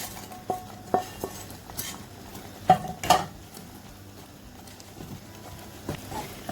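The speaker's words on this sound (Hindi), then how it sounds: "अब मैं इसमें जो मैंने चिकन फ्राई किया था वो मैं सारा चिकन इसमें डालूंगी।" Fried chicken is tipped into Manchurian sauce of ketchup and chili sauces and stirred in a pan, giving scattered clinks and scrapes of a utensil against metal, fairly soft and irregular.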